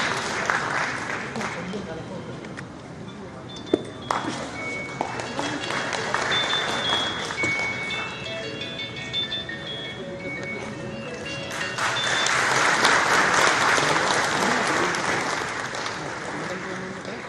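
An audience applauds at a government ceremony in Madhya Pradesh, a broad sustained clapping that swells louder toward the end, with a voice speaking over it in places.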